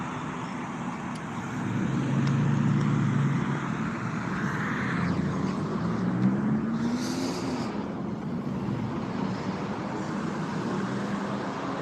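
A police car drives past on a road near a college community. The engine and tire hum swell and then fade over a steady traffic background, with no voices.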